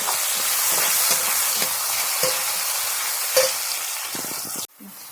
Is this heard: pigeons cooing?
no